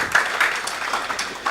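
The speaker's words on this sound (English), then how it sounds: "Let's give him another round of applause." Audience applause at a stakeholder conference session, a steady wash of clapping from a crowd lasting the whole moment without talk over it.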